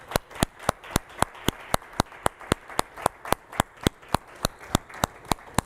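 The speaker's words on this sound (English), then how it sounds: "would you please stand up so that we can personally thank you and give you a round of applause?" An audience at a conference awards ceremony claps in a steady, evenly spaced rhythm, with crisp, loud strikes repeating about four times a second over a soft room murmur.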